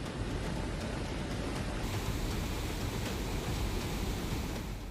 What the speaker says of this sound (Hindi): उफनती लहरों ने लोगों को डराया है।